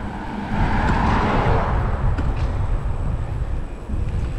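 An SUV drives past on a road lined with interim flex-post traffic calming, its steady engine and tyre rumble loud and close, swelling as it passes and holding through to the end.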